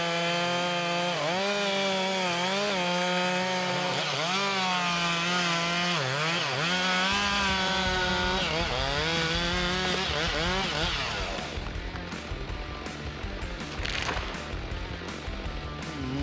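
Chainsaw felling a large tree, its loud engine rising and falling as the blade bites into wood, then breaking into rougher, noisier cutting later on.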